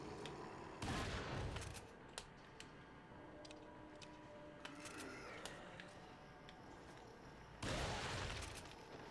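Gunfire in the GameCube video game Resident Evil 4, with a few faint sharp shots and two louder bursts of rapid blasts, scattered over quiet game ambience.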